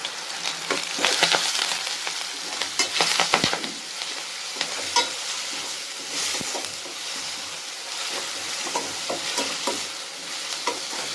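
Curry leaves, ginger and garlic frying in hot oil for pepper chicken, a steady crackling sizzle with repeated scraping stirs and clinks of a spoon against the pan, close and continuous without talk.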